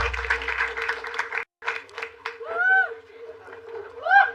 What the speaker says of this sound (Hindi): जोरदार तालियां for Karan Shah